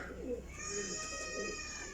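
Soft, low cooing from a breeding pair of pigeons, a few rounded calls spread over two seconds against a steady high background hum.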